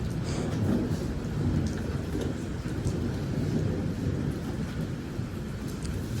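Thunder rolls low and heavy through a storm, with rain and gusting wind hissing steadily around it and no voices.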